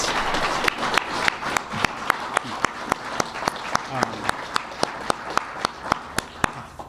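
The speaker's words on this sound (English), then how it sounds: "Can we give them a round of applause?" Steady crowd applause at a public announcement event, with one sharp, regularly spaced clap standing out near the front over the broader clapping, and voices murmuring underneath.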